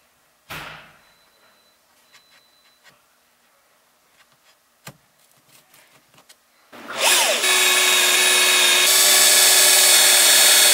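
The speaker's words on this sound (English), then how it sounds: "Let's just mark where the holes are so I can drill them into that" After a few scattered knocks and handling clicks, a power drill spins up loudly and runs continuously, boring holes into a carbon dash faceplate, close and harsh with no talking.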